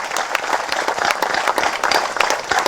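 Audience applauding loudly and steadily at a Tamil film audio launch for Nisabdham, with dense, continuous clapping from a large crowd close by, no voices on top.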